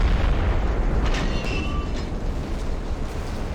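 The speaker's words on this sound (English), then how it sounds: "More and more explosions, more and more fires." Ships being shot to pieces in the submarine game Silent Hunter 3 set off deep, rumbling explosions, a heavy continuous roar with a few distant bangs and crackles, loud and steady throughout.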